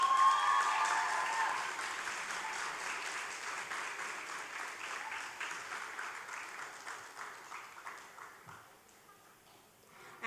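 Applause for two graduating valedictorians at a school graduation ceremony, a broad wash of clapping from a large audience that starts loud and gradually fades over about ten seconds.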